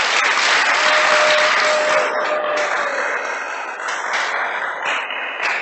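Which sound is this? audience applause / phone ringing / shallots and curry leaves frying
audience applause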